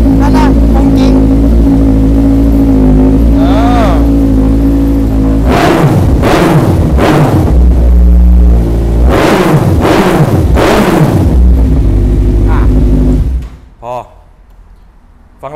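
A Kawasaki Z1000 motorcycle fitted with aftermarket parts idles, then revs hard several times in quick bursts from close by. Its loud engine drone runs under people talking and drops away near the end.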